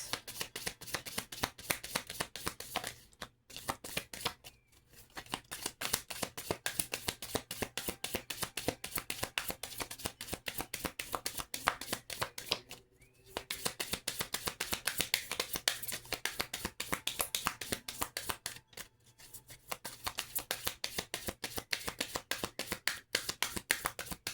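Past life oracle cards being shuffled by hand, a rapid, continuous riffling flutter up close, broken by a few brief pauses, with no talk.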